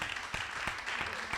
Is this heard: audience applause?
yes